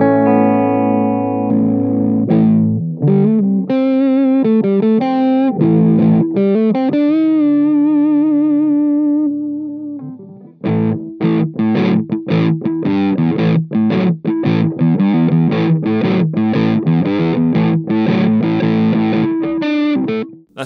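Electric guitar through a Danelectro French Toast octave distortion fuzz pedal, loud and thick with sustained fuzzy chords, a brief pause, then choppy rhythmic riffing with sharp stops, no talk over it.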